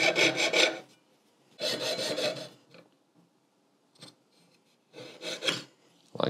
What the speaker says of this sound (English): The jeweler's saw does quick work.